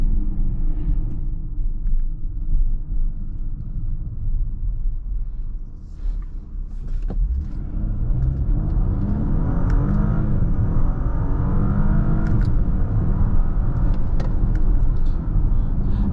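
2023 Audi Q8 55 Premium SUV accelerating on paddle shifters, heard from inside as a loud steady engine rumble and whir that rises in pitch partway through.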